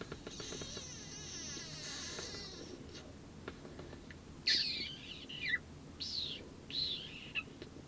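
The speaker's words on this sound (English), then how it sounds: "Those are birds." Several short bird calls chirp in bursts over a steady background hum, with a faint high tonal whine early on.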